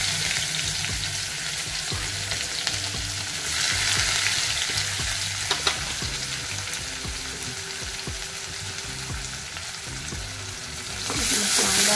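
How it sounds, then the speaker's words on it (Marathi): Garlic and finely chopped onion fry in oil with crackling mustard seeds and cumin, a steady close sizzle running throughout with occasional stirring scrapes and a brief louder burst near the end. "राई आणि जिरं चांगलं तडतडायला लागलं त्यामध्ये थोडासा लसूण आणि त्यानंतर कांदा"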